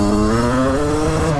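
A Derbi 50cc motorcycle engine revs loud and close in first gear, its steady buzzing drone holding a strong harmonic whine throughout with no voices.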